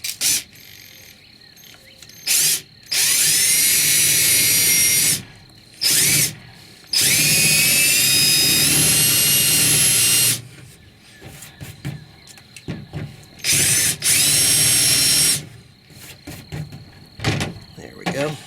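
A power drill slots a mounting hole in a kayak trailer, whining loudly in four separate bursts of a few seconds each, with quiet handling noises and clatter in the gaps.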